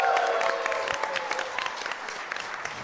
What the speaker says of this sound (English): Another round of applause for Abby.